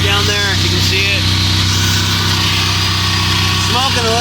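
Car engine idling steadily with a newly installed aftermarket exhaust bought on eBay, a constant low rumble throughout with a person talking over it at times.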